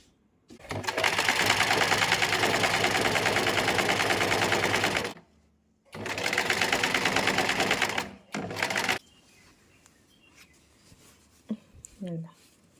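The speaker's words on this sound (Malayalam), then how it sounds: "മെഷീൻ ഓട്ടോമാറ്റിക് മടക്കി സ്റ്റിച്ച് ചെയ്ത് തരും" A sewing machine fitted with a rolled hem foot stitches in two loud, steady bursts of rapid mechanical whirring, with a short pause between them, then falls quiet apart from faint handling clicks.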